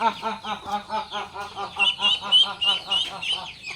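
Domestic ducks or geese at close range give a rapid run of loud, nasal honks and quacks in a steady repeated rhythm, with no voices over them.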